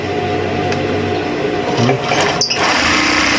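A sewing machine runs loud and steady just after its thread tension is adjusted, a continuous mechanical whir with a few brief clicks and knocks near the end.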